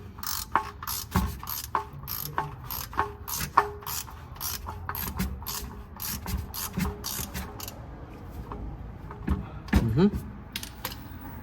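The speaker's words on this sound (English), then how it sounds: "I'm gonna go ahead and get my wrench or my ratchet and unbolt it" A ratchet loosens the oil drain plug on a 2008–2018 Toyota Avalon with the 3.5L engine, giving rapid close clicking bursts with metallic jingles and clanks, and a voice speaking at times.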